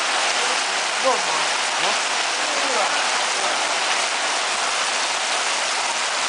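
Steady, heavy rain pours down in a dense, unbroken hiss, loud and close, with faint voices barely surfacing beneath it.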